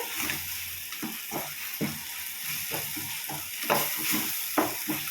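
Chicken thokku ingredients with garam masala sizzle and fry in a hot pan, with a steady frying hiss and repeated scraping stir strokes close by, and no talk over them.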